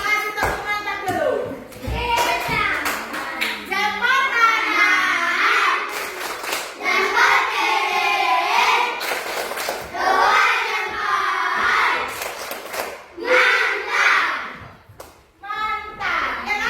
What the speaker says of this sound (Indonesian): Kita kasih tepuk mantap dulu.